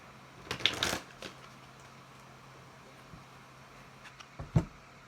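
A deck of tarot cards being shuffled in two short rustling bursts, one near the start and one near the end, separated by a quiet stretch without speech.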